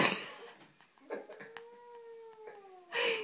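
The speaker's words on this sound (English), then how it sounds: "Our cat sounds like a cow" A cat gives a long, drawn-out meow that slides in pitch, preceded by scuffling noise and followed by a burst of broadband noise.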